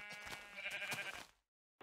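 A sheep in the video game Minecraft gives a single close bleat lasting about a second, followed by silence and a brief faint blip at the end.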